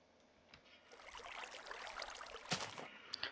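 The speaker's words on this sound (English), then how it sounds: "There is also a brand new sound for flowing water." Flowing water ambient loop from Minecraft Beta, a steady broadband rush and trickle of streaming water that swells in after a quiet start, with a few sharper splashy bursts near the end, heard alone.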